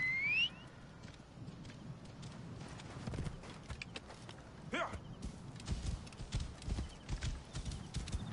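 In the video game Assassin's Creed Origins, a horse's hooves clip-clop quietly on the ground in an irregular patter, faint and steady beneath low ambient game sound, with a brief whistle-like tone near the start.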